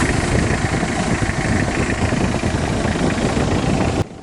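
The engine of a Mitsubishi L300 that overheats on long trips idles steadily as a continuous close rumble with a dense even texture, then drops abruptly to a quieter hum just before the end; no voice.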